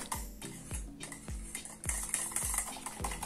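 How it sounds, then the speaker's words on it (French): Homemade face cream for combination to oily skin being stirred in a bowl, a rhythmic series of soft scraping strokes and light clinks of a utensil against the bowl, close and fairly quiet, about twice per second, with no talking. "Et je mélange encore un petit peu."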